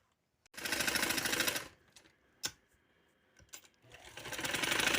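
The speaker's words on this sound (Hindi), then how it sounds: "चलिए अब इसकी मैं स्टिचिंग करती हूँ, ये करूँगी स्टिचिंग" A sewing machine stitches lawn fabric for a dress in two loud, close bursts of fast whirring, with a pause between them broken by a couple of sharp clicks.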